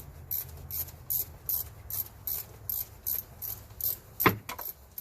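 A ratchet turns bolts on the serpentine belt tensioner of a 2013 Chevy Suburban 1500 with the 5.3 engine, giving a steady run of close, crisp clicking bursts in an even rhythm with one louder clack near the end.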